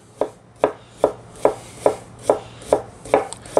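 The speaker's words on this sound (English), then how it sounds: "So I slice across the grain first." A knife chops through a vegan lobster substitute on a cutting board, slicing across the grain in nine crisp, evenly spaced strokes. The cuts are close and loud, with no other sound.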